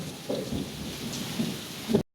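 Heavy rain pours down in a continuous hiss while low thunder rumbles through it, at a house flooding with rainwater. The sound then cuts off abruptly.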